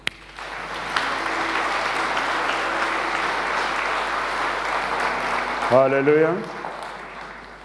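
Church congregation applauding in a steady, dense wash of clapping that fills the hall, with a voice calling out over it near the end.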